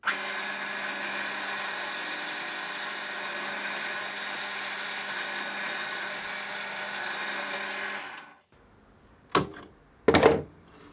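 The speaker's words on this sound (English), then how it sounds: "so we can pre-drill the hole" A drill bores a pilot hole through a wooden dowel clamped in a sandpaper-lined jig vise, giving a steady whining grind for about eight seconds. It stops, and then two short bursts of drilling follow.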